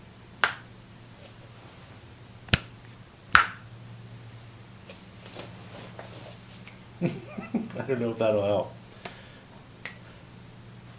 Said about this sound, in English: should I snap my fingers here or should I snap my fingers over here?